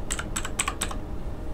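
Keys on a Nubwo X29 Eternal keyboard are pressed in about four quick clacky clusters, crisp and close, over a low background hum, with no one talking.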